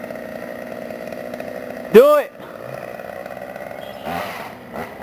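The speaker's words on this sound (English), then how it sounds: "I can't believe how fast he just went through that. He's a professional chainsaw man." A chainsaw cutting through wood gives one loud, brief roaring rev in the middle, with people talking and reacting around it.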